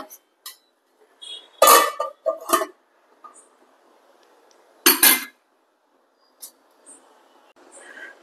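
Metal lid and pot clatter in a kitchen as a lid goes onto a pot of cooking mutton with cucumber. Several separate clanks and clinks are set apart by pauses, with one loud ringing clank in the middle.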